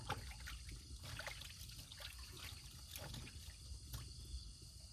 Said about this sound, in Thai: เดี๋ยวขอล้างมือก่อนครับ